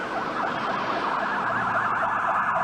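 Emergency vehicle sirens from fire, police and ambulance units wail continuously and loudly together, a steady blaring howl with no talk over it.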